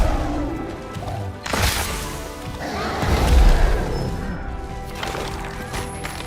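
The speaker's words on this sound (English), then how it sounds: "That is the sound of Kirin's horn being broken off." Rajang breaking off Kirin's horn in Monster Hunter World Iceborne, a sharp crunching crash with a heavy thudding impact amid game effects and rumble, no talk.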